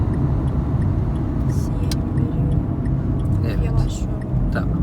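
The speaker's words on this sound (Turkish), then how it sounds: "Attık vitesi 2'ye devam ediyoruz." A car driving during a driving lesson, shifted into second gear, gives a steady low engine rumble close by, with a few small ticks, while people talk over it.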